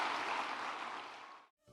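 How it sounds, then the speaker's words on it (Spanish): A church congregation applauding, a dense steady wash of clapping that holds at moderate loudness, then fades and cuts off abruptly. "Denle un aplauso al Señor."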